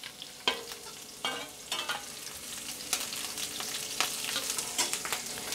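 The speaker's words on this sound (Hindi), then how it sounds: "अदरक लहसुन हरी मिर्च यहाँ पर फ्राई हो गई है।" Ginger, garlic and chopped green chillies fry in hot oil for chicken chilli, a steady close sizzle with the repeated clatter of a spoon stirring the pan.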